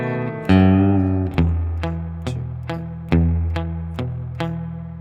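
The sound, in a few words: palm-muted guitar intro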